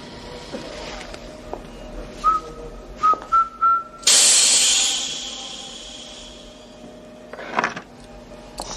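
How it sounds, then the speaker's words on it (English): A short whistled tune, the opening bars of Rule Britannia, in a few clear notes, followed by a loud hiss of escaping stun gas that slowly fades, then a brief clatter. "whistle the first bars of Rue Britannia."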